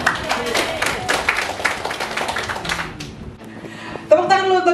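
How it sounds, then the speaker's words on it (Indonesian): Participants at a parish recollection and cooperative committee gathering clap in a spirited round of applause that tapers off, followed by a voice speaking. "Tepuk tangan dulu untuk kita semua"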